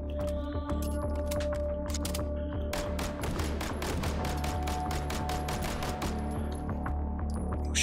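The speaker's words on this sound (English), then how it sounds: "Who's shooting at me?" Rapid gunfire in the VR shooter Hot Dogs, Horseshoes & Hand Grenades, a loud dense fusillade of close shots over steady background noise, firing continuously throughout.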